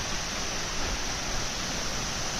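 A waterfall near a cottage, a steady dense roar of falling water filling the whole moment without a break.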